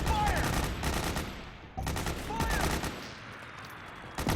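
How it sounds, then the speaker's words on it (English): Gunfire aimed at the player in Metal Gear Solid 4: bursts of rapid shots in two dense volleys, with a short gap between them, loud and close, mixed with game effects. "You're the motherfucker shooting at me."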